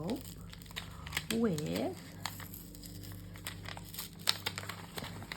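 A small paper envelope being opened by hand, with close, soft crinkling and rustling in brief bursts while someone talks.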